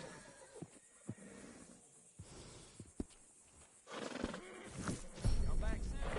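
A horse neighs in the Western video game Red Dead Redemption, a few whinnying calls rising over game ambience and soft hoof sounds in the later seconds.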